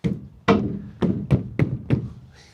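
Knuckles knock on a tight tonneau cover on a Ford truck, giving six hollow drum-like thunks at a steady, slightly quickening pace, close and clear with no talk.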